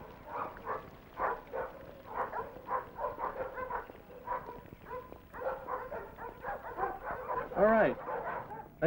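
Guide dogs barking and yipping indoors, a string of short sharp barks and whimpers at moderate distance, interspersed with people talking nearby.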